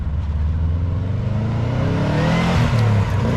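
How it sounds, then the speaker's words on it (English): A car engine revs up close and loud, its pitch climbing steadily as it accelerates, with no talking. "I didn't know my car sounded like that."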